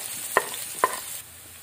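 Garlic and ginger sauté in cooking oil, a soft, steady sizzle near at hand broken by two sharp utensil clinks against the pan.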